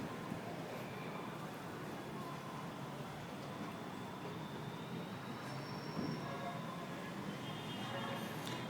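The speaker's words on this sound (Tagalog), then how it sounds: "Rinig na rinig mo yung LRT." A steady, loud rumble of a light rail (LRT) train rolling past, broadband and continuous for the whole stretch, with faint high squeals of wheels toward the end.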